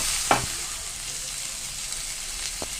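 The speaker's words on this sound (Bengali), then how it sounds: "আলুগুলো আমি ভালো করে লাল লাল করে ভেজে নেব।" Potatoes fry in mustard oil with a dense, even sizzle held at steady loudness, broken by a couple of brief knocks or stirs.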